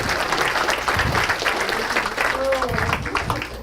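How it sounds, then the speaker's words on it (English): Audience clapping for a group at a talk on the DISC model of human behaviour, a steady burst of applause lasting a few seconds with crowd noise and some voices mixed in. "Give the I's a big hand clap."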